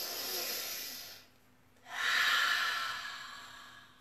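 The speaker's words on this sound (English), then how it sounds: "we're gonna do three big breaths" Deep breathing during a yoga session: a long, loud breathy exhale, a brief quiet pause, then a strong inhale or exhale that swells and slowly fades, with no talking.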